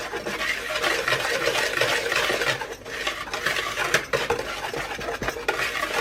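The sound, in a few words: stirring pumpkin pecan cobbler ingredients together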